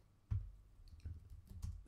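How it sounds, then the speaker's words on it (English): A few quiet, close clicks from a computer keyboard, spaced irregularly like short typing, faint against a low background hum. "Here, I'm going to go type hello."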